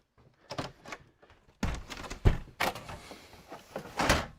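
A dog door being shut in a workshop, a series of soft knocks, thuds and rattles of varying loudness, with no voices.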